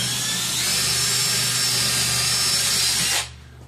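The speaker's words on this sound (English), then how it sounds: "You get your drills, and re-drill your sides." Power drill running steadily as it re-drills screw holes in the side of a wooden WEBE enclosure, a loud whining buzz that cuts off abruptly near the end.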